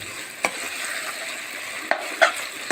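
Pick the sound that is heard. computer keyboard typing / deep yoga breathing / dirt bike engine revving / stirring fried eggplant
stirring fried eggplant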